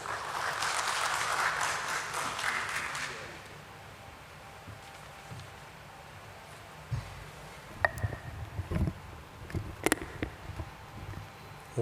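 Audience applause welcoming a speaker on stage at a stock exchange listing ceremony fills the first three seconds, then fades into quiet room noise broken by a few scattered thumps and handling sounds.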